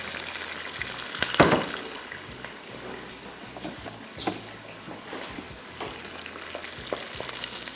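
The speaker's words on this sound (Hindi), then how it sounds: "ये मिर्चों को हमने फ्राई करना है बिल्कुल थोड़ा सा, और ये पटाखे बहुत फटेंगे इसके" Green chillies fry in hot oil for mirchon ka salan, giving a soft continuous sizzle broken by sharp crackling pops. One pop is noticeably louder than the rest, and a few other bursts are scattered throughout.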